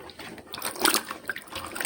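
Water splashes and runs while papaya is rinsed, a steady close wash with small surges and drips over roughly two seconds, with no talking.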